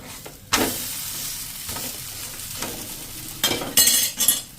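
A garlic wheat paratha fries in butter on a pan, sizzling steadily, with a few scraping and clinking sounds of a utensil turning it.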